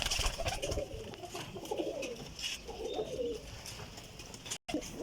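Pigeons coo repeatedly in soft, rolling phrases, joined by other birds chirping around them, at close range with steady background noise and no talking.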